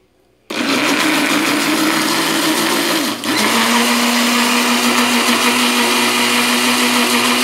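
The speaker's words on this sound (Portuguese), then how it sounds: "Coloquei todos os ingredientes aqui no liquidificador e agora eu vou bater por alguns minutos." A kitchen blender starts abruptly and runs loud and steady, whirring through vegan passion fruit mousse ingredients, with a brief dip in pitch as the load shifts before the motor settles back to a constant drone.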